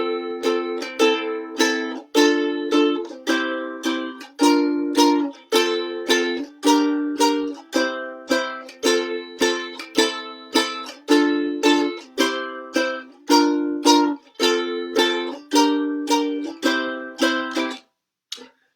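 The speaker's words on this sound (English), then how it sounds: "it sounds something like this on ukulele" A ukulele plays the intro of a song, a bright, steady strummed melody, each chord ringing clearly in a regular rhythm for about seventeen seconds, then stops.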